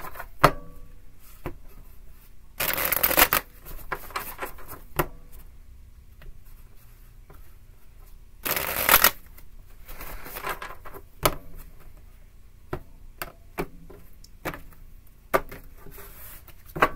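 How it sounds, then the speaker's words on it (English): A deck of tarot cards being shuffled three times, crisp riffling bursts standing out close and loud between softer scattered taps and handling noises. "3 shuffles."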